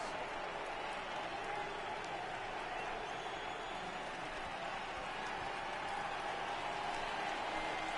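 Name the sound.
stadium crowd cheering in MLB The Show 18 video game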